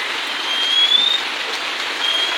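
Rain falls steadily on a courtyard, making a dense, even hiss that swells slightly at moments, with no voices over it.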